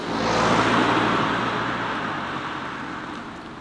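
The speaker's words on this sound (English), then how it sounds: "hitting the Autobahn and going full throttle" A Skoda Octavia Scout runs at full throttle on the Autobahn, giving a loud, steady broadband rush of wind and road roar that swells early and then eases slightly, with no talking.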